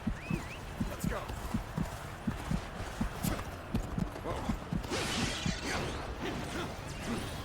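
Galloping horse hooves in the video game Dynasty Warriors Origins give a steady rhythmic clip-clop through a dense battle mix of clashes and whooshes, with a voice talking over it.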